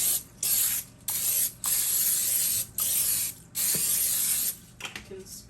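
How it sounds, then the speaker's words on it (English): Short bursts of aerosol cooking spray hiss in quick succession onto a dish of chicken, about six sprays of varying length with brief pauses between them. "chicken spray"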